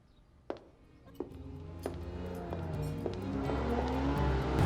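A car drives up and rumbles closer, its engine noise rising steadily to a loud close finish, with a few sharp clunks and knocks scattered over the first few seconds.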